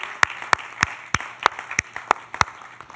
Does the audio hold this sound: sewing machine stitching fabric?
no